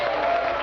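Brief burst of audience applause at a church debate among pastors and priests, a steady dense clatter of clapping hands filling the whole moment without speech.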